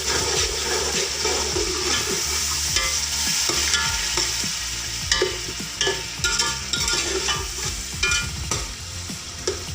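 Masala sizzles loudly in a pan after yogurt is added for mutton yakhni pulao, with a spoon repeatedly scraping and clattering as it is stirred.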